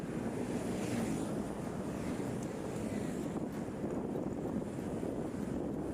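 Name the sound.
waves crashing on beach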